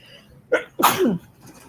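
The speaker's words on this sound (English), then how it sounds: "I felt that sneeze coming" A single sharp sneeze with a brief intake of breath just before it, close and loud, then quiet.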